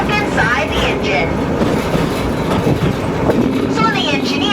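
A Hawaiian Railway train runs close by, with a loud continuous rumble and rattling of the cars, while voices talk over it throughout.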